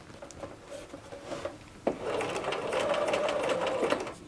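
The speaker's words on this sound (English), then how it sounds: "roll my needle in, and I'm going to start stitching" Close sewing machine straight-stitching a knit sleeve cuff, with a hand-wheel click and handling noises first, then a steady whirring run of stitching to the end.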